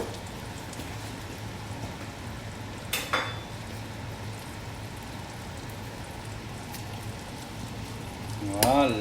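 Butter melting in a pan for a veal blanquette, a soft steady crackling sizzle with a couple of sharp clanks of utensils against the pan and a louder scrape near the end.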